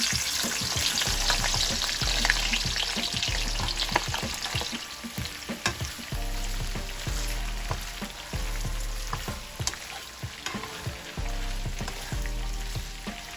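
Garlic and onion fry in a pan for a fish sauce, a dense crackling sizzle with frequent sharp pops and spatters, close and continuous, with no speech.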